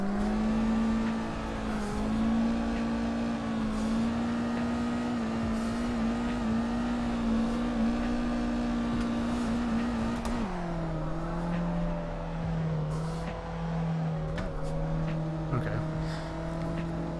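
A stock Mazda Miata drifting in the racing game Assetto Corsa gives a steady, loud engine drone held at high revs that drops in pitch partway through, with a little background noise.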